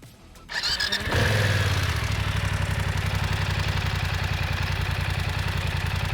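A 900 cc motorcycle engine fires up and settles into a deep, rough, throbbing idle with a bassy exhaust note, loud and close.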